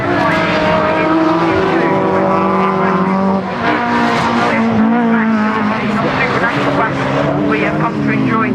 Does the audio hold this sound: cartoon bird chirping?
no